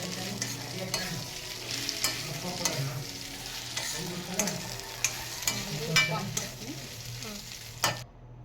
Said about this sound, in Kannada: ಇದಕ್ಕೆ ನಾನಾಗಲೇ ಫ್ರೈ ಮಾಡಿ ಇಟ್ಕೊಂಡಿರೋ ಅಂಥ ತೊಂಡೆಕಾಯಿನ ಹಾಕ್ಕೊಂಡು ಮಿಕ್ಸ್ ಮಾಡ್ಕೊಳ್ತಿದ್ದೀನಿ